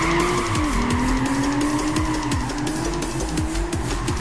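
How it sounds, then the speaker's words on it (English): Nissan 300ZX held in a long drift in Gran Turismo 5, its engine note rising and falling under continuous loud tire squeal and skidding with no voices. "you can hold drifts for long amounts of time, as you can see, just pulling the wheel all the way to the right"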